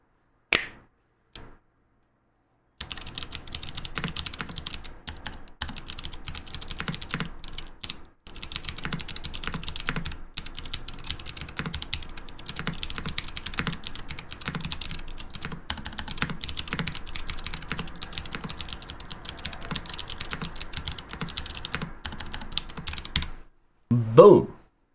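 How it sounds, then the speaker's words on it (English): Fast, steady typing on a clicky mechanical keyboard, dense crisp key clicks running close and loud for about twenty seconds with no talk over them, bracketed by brief silence and a few bumps at the start and end. "It is a Clicky keyboard"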